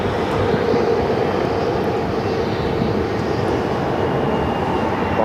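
A Boeing 737 MAX 9 airliner at Phoenix airport gives a loud, steady jet engine roar that stays constant, broadband and close without a break, with no talk over it.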